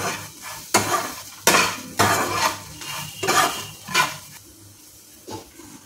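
Bitter gourd is sautéed in a pan over low gas. A spoon scrapes and clinks against the metal in a series of strokes, close and fairly loud, with a faint sizzle underneath and no talking.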